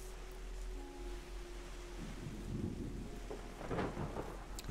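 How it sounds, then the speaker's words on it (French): Thunderstorm with steady rain in the video game Terra Nil: a constant rain hiss with rumbling thunder rolling in and swelling near the end, no talk. "Et on profite de nos plus beaux orages."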